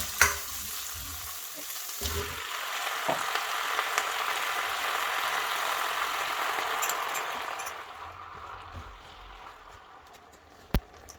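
A loud, steady sizzle of chillies stir-frying in a hot pan, with occasional clinks and scrapes of stirring before the sizzle dies down.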